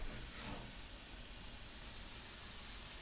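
Carne asada skirt steak sizzling on a grill, a steady, faint, even hiss that holds unchanged throughout with no other sound over it.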